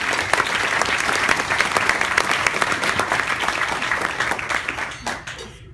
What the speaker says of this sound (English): A round of applause for the trustees.